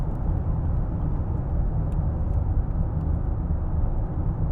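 A 2007 Land Rover Freelander 2 TD4 on the move, heard as a steady, full low rumble of engine and road noise inside the cabin, constant and unbroken with no voices.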